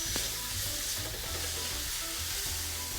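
Flat-cut beef hits a hot frying pan for Chinese fried rice, giving a loud, steady sizzle with crackling and spattering from start to finish and no talking.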